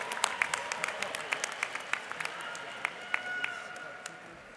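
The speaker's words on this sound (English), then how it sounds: "Let's give a round of applause to our Master of International Public Policy and Management graduates" Scattered applause at a USC Price commencement ceremony for Master of International Public Policy and Management graduates, fairly faint and thin, with individual claps standing out over a low murmur of voices.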